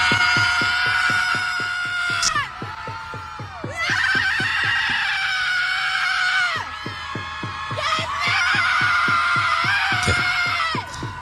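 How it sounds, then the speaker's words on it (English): A woman's recorded scream plays in long, loud, sustained bursts, three drawn-out wails separated by brief drops, over a pulsing rhythmic beat underneath. "this is what she's doing. She's screaming."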